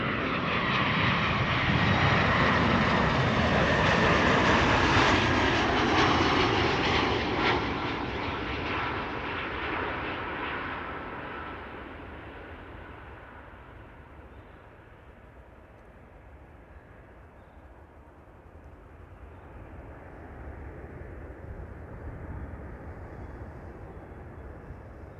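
An Air France Airbus A320, registration F-GKXH, arriving from Paris at Amsterdam Schiphol, passes as a loud, broad jet roar that peaks early, then slowly fades and lowers as it moves away, leaving a steady distant rumble.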